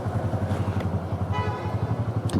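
A Honda Super Cub scooter's small engine putters with a steady, low, pulsing idle as it goes up over a curb and parks, close by, with a faint clatter near the end.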